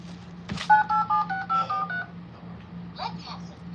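A new phone's keypad sends a quick run of about eight evenly spaced dialing tones, close and clear over a steady background hum, with brief voices around them.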